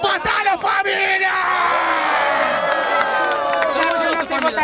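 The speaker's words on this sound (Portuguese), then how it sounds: "Barulho pra essa batalha, família!" A crowd at the Batalha da Aldeia rap battle in Barueri, São Paulo, cheers, whoops and yells loudly and steadily, with scattered shouts and claps rising and falling throughout.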